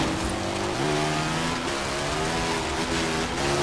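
Engine of a 2015 Polaris RZR XP 1000 buggy in the Forza Horizon racing game, a steady droning whine that shifts pitch as it revs, loud and continuous over a rough, rain-like road noise.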